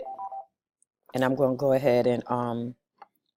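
A telephone rings briefly with a warbling electronic tone, then stops. Afterwards a person speaks at length in a quiet room.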